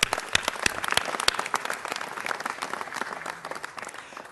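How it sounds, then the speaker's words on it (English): A round of applause fills a city council chamber in Los Angeles: many hands clapping densely and steadily, fading a little toward the end. "I personally want to give you a round of applause."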